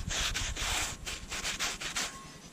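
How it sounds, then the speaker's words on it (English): Gloved hands rub rust off a cast iron pan after electrolysis cleaning in close, loud rhythmic scrubbing strokes, repeated about eight times. "I'm gonna rub it with my gloves, but you can see this rust right there"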